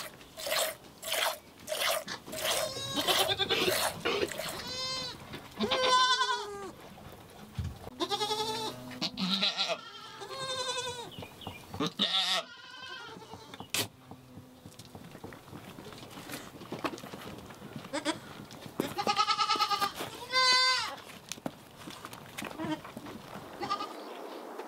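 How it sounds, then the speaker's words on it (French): A herd of about a hundred goats bleats in a family stable among the Kalash people in Pakistan. Loud, close, overlapping bleats repeat throughout, with occasional crunchy chewing and shuffling between calls. "il gère cette étable familiale riche d'une centaine de chèvres"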